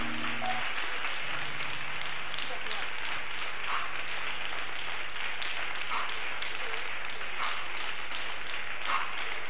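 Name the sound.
congregation clapping hands during prayer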